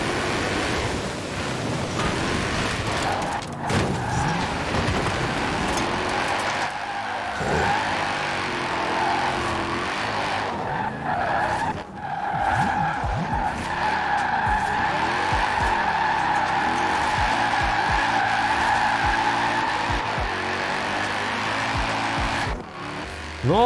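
A Lotus Omega drifts through snow in Forza Horizon 4, its tires skidding and squealing almost continuously over a steady engine roar, loud and close with no talk.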